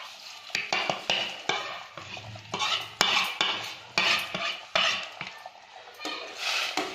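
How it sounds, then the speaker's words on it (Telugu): Semolina is stirred into boiling water in a cooking pan, a spoon scraping and clinking against the metal in repeated, rhythmic strokes, close and fairly loud with a faint bubbling underneath. "రవ్వ వేసుకొని"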